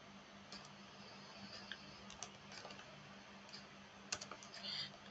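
Command being typed on a computer keyboard, a faint run of quick light key clicks in an uneven rhythm, a few louder taps near the end, with a low steady hum beneath.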